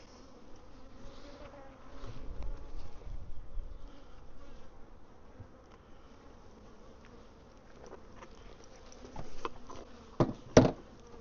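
Honey bees buzz softly around an open hive during a new queen installation, a low steady drone near the beekeeper, with a few louder passes and brief close bursts near the end.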